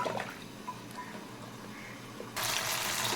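Water is poured into a pot of cooking lentils (dal) seasoned with turmeric, a steady close splashing pour that swells into a louder gushing rush near the end, with no talking.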